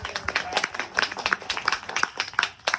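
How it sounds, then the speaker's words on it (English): Small audience clapping for a magic trick volunteer, brisk rhythmic claps from a handful of people, close and fairly loud, lasting only a few seconds. "Give him a big round of applause"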